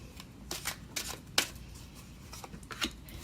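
Tarot cards shuffled in soft, quick riffling bursts, several short flurries spaced apart, close and fairly quiet.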